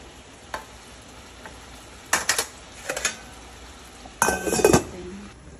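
Fish frying in a pan with broth just coming to a boil, heard as quiet background sizzle broken by a few clattering bursts of utensil and pan contact, no talk.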